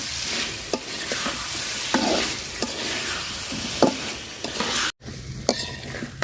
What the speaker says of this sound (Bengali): তো আলু আর মশলা সুন্দর করে কষায় নিছি